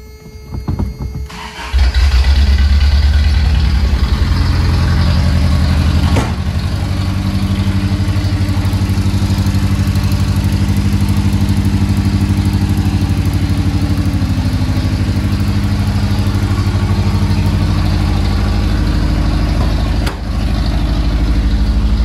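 A Toyota mini truck engine, newly fitted and badly needing a tune-up, cranks and fires up, then settles into a loud, steady, continuous idle close by with no voices.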